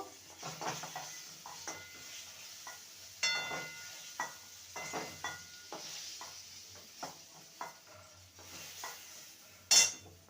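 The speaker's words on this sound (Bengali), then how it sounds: "পেঁপেগুলোকে ভেজে নেব পেঁপেগুলোকে ভেজে নিয়েছি এবার তুলে নেব" Papaya pieces frying in a pan, a faint background sizzle broken by intermittent scrapes and clinks of a spatula against the pan, ending with one sharp metallic knock, close and fairly quiet.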